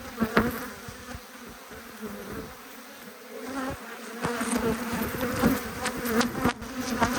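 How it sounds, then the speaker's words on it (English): Bees swarm in the air around an opened beehive during an inspection of its brood, a dense steady buzzing that rises and falls as insects pass close by, growing louder toward the end. "not a heap of bees, probably because they're all in the air trying to get at me"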